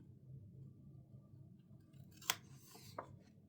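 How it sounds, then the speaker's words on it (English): Precision scissors cutting paper for a creative journal spread, heard close and quiet: two sharp snips, the first louder, after a stretch of soft room hum. "Let me use my precision scissors actually."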